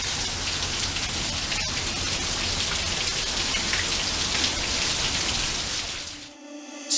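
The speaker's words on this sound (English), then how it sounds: "We never get rain here." Steady rain falling in Arizona, a dense close patter on surfaces that holds evenly before cutting off near the end.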